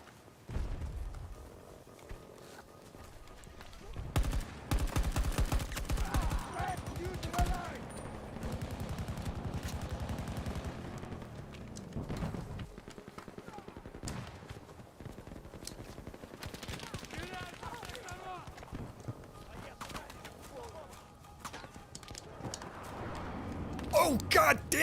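Gunfire in a Battlefield video game, with sniper shots mixed among rapid bursts and booms through a busy firefight. A voice talks over the shooting, and the noise swells and fades across the scene.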